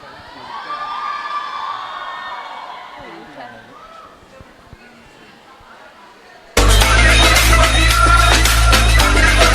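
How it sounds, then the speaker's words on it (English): A crowd at a school annual day cheers and whoops loudly for several seconds, then loud music abruptly takes over. "Let us welcome them with a huge,"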